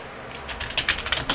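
Keystrokes on a computer keyboard during a Super Mario typing tutor: crisp, close clicks begin about a third of the way in and continue in an uneven, quickening burst to the end, with no voices.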